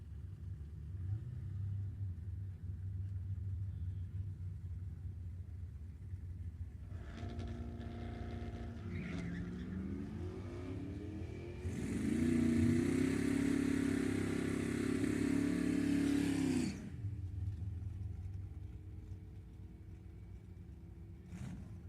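A drag racing car makes a time run at an NHRA event in Sacramento, its engine rumbling at idle before a loud, rising roar that holds for several seconds and then cuts off, leaving a distant background rumble.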